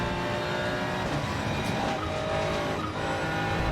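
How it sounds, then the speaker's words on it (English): The engine of a 2023 GT3 race car in Assetto Corsa Competizione screams at high revs with tyre squeal, a steady, moderately loud drone without speech. "Listen to that engine scream."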